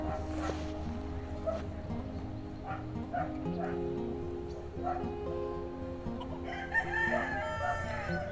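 A rooster crows at a distance beneath steady low background hum, with a dog barking faintly at times.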